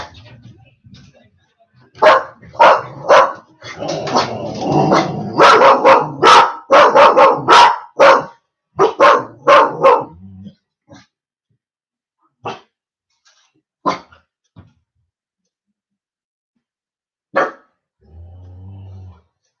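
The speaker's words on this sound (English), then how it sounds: "The dog." A dog barks loudly and repeatedly at a parcel delivery, rapid bursts mixed with growling in the first half, then a few sparse separate barks with long quiet gaps in between.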